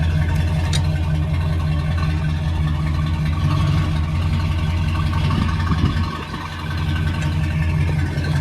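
A vehicle engine idles steadily in deep snow before hauling a trailer of cow manure, a low continuous rumble running the whole time with a brief dip near the end.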